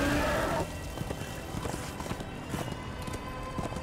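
A horse in the Darksiders II video game gallops along with steady, rapid clip-clop hoofbeats after a brief burst of louder game noise, the rhythm continuing evenly throughout.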